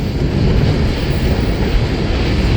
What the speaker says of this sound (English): So our eastbound train is a mixed manifest,